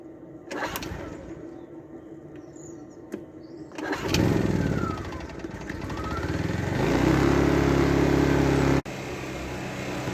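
A petrol generator cranks into life after a quiet pause, then runs as a loud, close, steady mechanical drone that swells and settles, with a sharp click before it drops back briefly.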